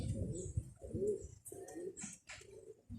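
Birds close by give low, soft cooing calls in short phrases with brief pauses, plus a few higher chirps in the background.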